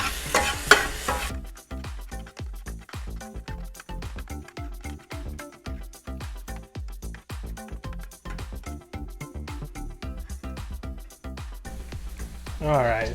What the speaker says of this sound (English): Let's finish cooking up this taco meat and then we can add the rest of the ingredients.